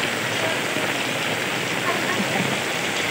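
Heavy rain from Typhoon Carina pours down steadily over a flooded street, a loud, unbroken hiss of water striking surfaces up close.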